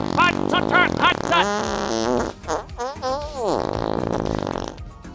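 A voice imitates fart noises with a rapid run of buzzing, sputtering bursts, then drawn-out wavering raspberries that slide up and down in pitch, loud and close.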